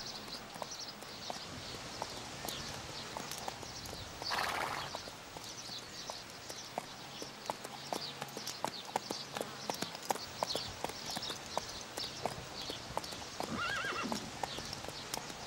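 Several horses walking at a slow pace with riders aboard during a riding lesson, steady overlapping hoof clip-clops throughout with an occasional whinny, while people talk faintly in the background.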